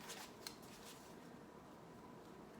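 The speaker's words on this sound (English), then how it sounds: "I love shuffling the cards." A deck of oracle cards is shuffled close by, with quick riffling flutters at the start that settle into a faint, soft rustle. The room is otherwise quiet and nobody talks.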